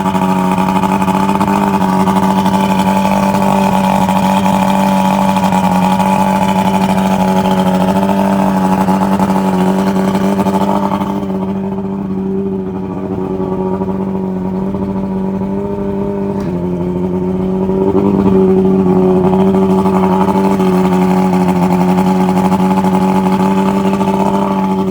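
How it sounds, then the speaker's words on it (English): A boat's outboard motor runs continuously close by, a steady droning hum idling a little high, dipping briefly midway before settling back to the same even tone, with no talking. "So it's running good, it's just idling a little high."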